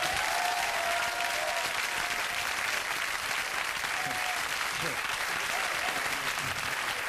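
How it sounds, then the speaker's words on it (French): An audience bursts into continuous applause that holds dense and loud throughout, a crowd clapping together with a little murmuring mixed in. "Applaudissez-moi pour ma répugnance."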